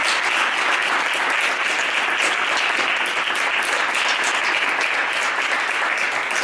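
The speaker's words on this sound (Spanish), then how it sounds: "un aplauso, por favor" Audience at a Book Day talk on the history of magic in Spain applauds the speaker, a steady, dense wash of clapping sustained at even loudness throughout.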